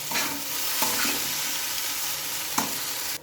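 Chow mein noodles with potatoes tossed and stirred in a hot pan, continuous loud sizzling with a few sharp scrapes of the spatula, close up and without speech.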